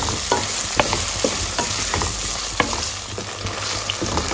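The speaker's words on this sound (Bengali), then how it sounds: "রসুন আর পেঁয়াজ দিয়ে ভাজবো" Garlic and onion frying with drumsticks in a home kitchen pan, a continuous close sizzle broken by regular spatula taps and scrapes against the pan, without any talking.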